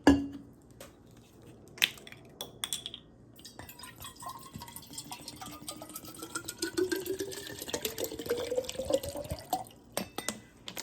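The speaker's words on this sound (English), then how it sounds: "what I'm going to do now is I'm just going to put my water in it." Water pours into a bottle with a rising gurgling pitch as it fills, after a few clinks and taps at the start.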